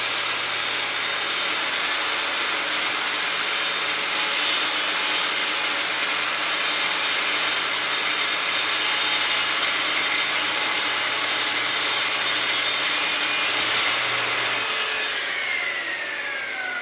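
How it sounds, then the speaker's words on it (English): A Festool TS55 track saw with a ripping blade makes a full-depth rip through wood in one long continuous pass, a loud, even whine with gritty cutting noise that tapers off at the end. "The next cut that I made was with the TS55 with the ripping blade, full depth cut, all in one pass"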